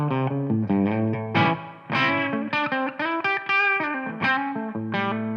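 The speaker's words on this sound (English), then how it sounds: "what you're hearing is the sound of my guitar plugged straight into Tonex One and into my audio interface" Electric guitar plugged straight into a Tonex One pedal and an audio interface, playing a lively run of distorted, effected notes and chords with short gaps between phrases, loud and close, with no talking.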